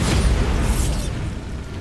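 A Bombarda explosion spell blasting a barricade in Hogwarts Legacy, heard as a loud, deep rumbling boom with a hissing burst on top that decays over under two seconds.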